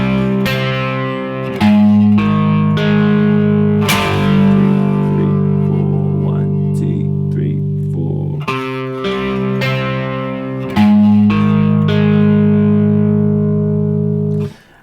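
Distorted electric guitar playing the chorus of Deep Purple's Smoke on the Water, loud sustained chords and picked notes in a steady progression, strongly driven with effects and no voice.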